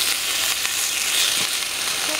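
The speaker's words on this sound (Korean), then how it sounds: "설거지야." Dishes are washed at a summer campsite, with a continuous close hiss of running, splashing water throughout.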